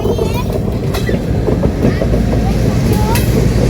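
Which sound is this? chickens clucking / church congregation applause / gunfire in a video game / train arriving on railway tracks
train arriving on railway tracks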